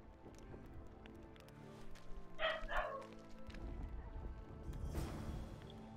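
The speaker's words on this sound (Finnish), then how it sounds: "Siellä koira haukkuu jollekin." A dog in The Witcher 2: Assassins of Kings barks twice in quick succession, fairly loud against quiet game ambience, with footsteps and other in-game sounds around it.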